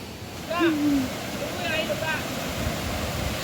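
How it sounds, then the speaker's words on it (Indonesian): Lubuk Udang waterfall on the southern side of West Sumatra gives a steady, broad rushing roar throughout, with a few brief higher calls rising over it. "Air terjun Lubuk Udang di sisi selatan Sumatera Barat."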